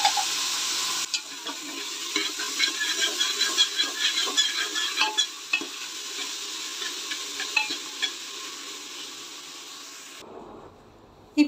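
Onions and ginger sautéed with salt in a pan for kappa biryani, a steady sizzle with a run of rhythmic scraping stirs through the middle, close and moderately loud, stopping abruptly near the end.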